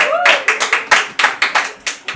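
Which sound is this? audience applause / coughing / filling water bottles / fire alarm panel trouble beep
audience applause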